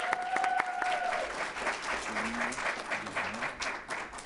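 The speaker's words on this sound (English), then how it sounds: "Let's give a round of applause for our first Crimson Take finalist, Kaya Foreman, presenting ISB Waxing Service" Steady, dense applause from an audience at a scholarship ball fills the whole moment, with a brief electronic tone near the start.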